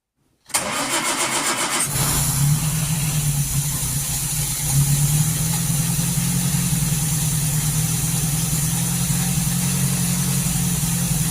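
A 1939 Hillman Minx engine cranks briefly on the starter, catches and settles into a loud, steady idle with a low even rumble, close up and uninterrupted.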